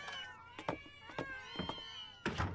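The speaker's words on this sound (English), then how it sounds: "Kitties, kitties, kitties! And more! They're everywhere!" Several cats meow in short, repeated calls spaced through the moment, some higher and some lower, fairly close, with light bumps in the background.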